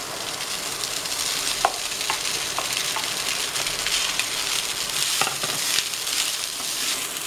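Cooked rice is stirred into a frying tomato mixture in a pan, giving a steady close sizzle broken by repeated scraping stir strokes and soft clinks.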